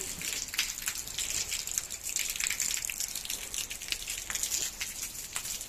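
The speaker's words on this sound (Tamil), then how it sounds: "சவுதி அரேபியாவில் ஹெவி ரெயின்" Heavy rain in Saudi Arabia pours down steadily, a dense hiss of drops striking surfaces with occasional louder splashes, continuous throughout.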